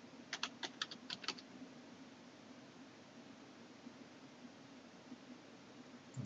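Keyboard typing while entering data into a spreadsheet editor, a short quick burst of keystrokes near the start, faint and close, then a quiet steady room hiss.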